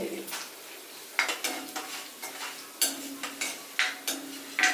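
Urad dal, curry leaves, chilli and tamarind roasting in a pan for sweet potato chutney: a quiet sizzle broken by repeated sharp scrapes and clinks of a spoon stirring against the pan, close by, with no talk.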